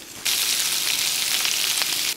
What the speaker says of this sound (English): That's sizzling up real nicely.